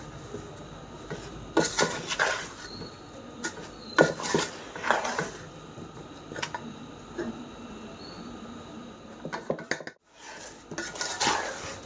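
A spoon clinking and scraping against a steel vessel while mixing amla pickle with masala, irregular close clatters with short pauses and a brief silence midway, no talk.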